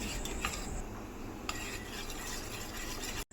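A utensil whisks egg mixture rapidly against a bowl, producing a steady scraping, clinking rhythm up close, with soft background hiss.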